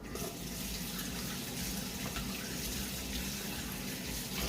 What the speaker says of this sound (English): Just wash my hands a minute.